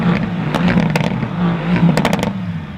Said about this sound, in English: I think AMGs are officially my favorite exhaust sound out of any manufacturer.